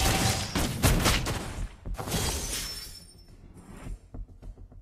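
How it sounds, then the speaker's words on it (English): Turret destroyed in Argus gameplay within a MOBA-style video game: several sharp shattering crashes and bursts in quick succession, loud at first, then tapering into scattered smaller cracks and debris. "Our turret has been destroyed."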